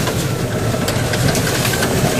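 Polaris Ranger EV electric utility vehicle driving in all-wheel drive over rough ground, a continuous loud rattling rumble of drivetrain and chassis with faint clicks and no pause.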